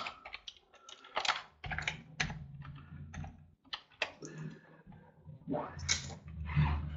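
Close, quiet typing on a computer keyboard while an office accounting program is used, heard as irregular clusters of crisp key clicks with short pauses between bursts.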